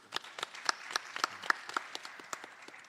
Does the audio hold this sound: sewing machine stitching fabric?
no